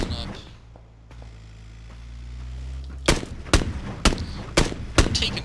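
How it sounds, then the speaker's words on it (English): Gunfire in a League of Legends squad match: a quiet low hum gives way to a burst of loud, sharp shots in an irregular rhythm during the second half. "We're taking shots on these guys as they approach"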